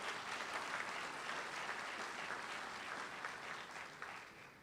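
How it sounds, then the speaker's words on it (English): A studio audience at a Central Florida sports awards show gives a round of applause, continuous clapping from many people that stays fairly quiet and even before tapering toward the close. "Big round of applause for that."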